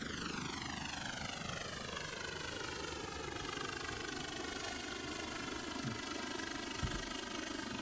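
A V-22 Osprey military tiltrotor in a flight simulator game, giving a steady whirring engine and rotor drone with a slowly shifting pitch that holds throughout.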